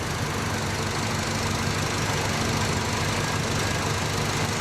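A 1968 Buick Electra 225 engine fitted with ACES Killshot EFI, running steadily at a close, loud, even idle with a constant mechanical rumble and no speech.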